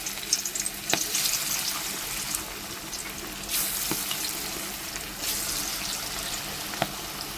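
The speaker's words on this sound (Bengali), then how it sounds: "এবারে আমি বড়াগুলো ভেজে নেব।" Lentil and Malabar spinach fritters fry over low heat in white oil with a continuous crackling sizzle, punctuated by a few soft clicks and brief surges of spatter, and no voices.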